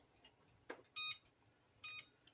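Kitchen timer being set, giving two short electronic beeps close by, each a steady bright tone, with faint clicks and handling noise between them in a quiet kitchen.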